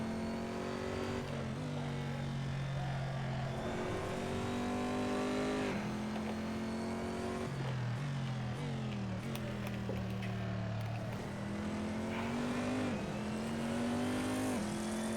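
A 500-horsepower Corvette C7.R race car at Laguna Seca drones loudly throughout in a racing game, its engine note climbing through the gears, shifting and dipping under braking, then revving back up.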